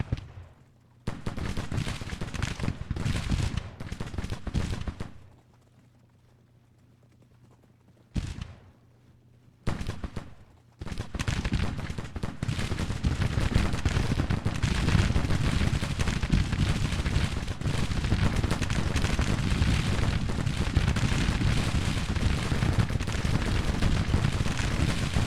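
Dense Civil War battle gunfire from the strategy game Grand Tactician, with continuous crackling musket volleys and heavy booms, a short near-silent lull broken by a couple of bursts, then relentless sustained firing.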